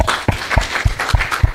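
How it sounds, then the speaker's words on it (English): Applause from a seminar audience: a small, close-up pattern of sharp, evenly spaced claps, fairly loud and brief. "Yes, please give him a round of applause."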